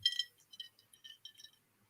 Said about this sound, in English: Those ice cubes sound good.